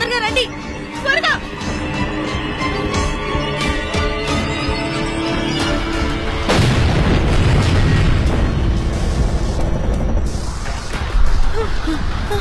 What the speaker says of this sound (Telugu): అయ్యో బాంబు!